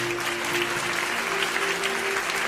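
A church congregation applauds the Lord Jesus at a prayer service, steady loud clapping from many hands sustained throughout with a faint voice beneath.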